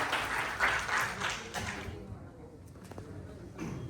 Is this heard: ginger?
no